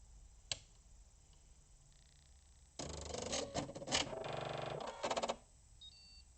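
A sewing machine stitches in short bursts, quiet clicks giving way to a few seconds of rapid mechanical rattling that stops and restarts, close by with no talking.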